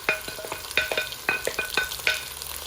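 Carrot, green peas, leeks and frozen corn sauté in a hot pan for Sri Lankan style fried rice, with a spatula scraping and tossing in quick repeated strokes over a close, crackling sizzle.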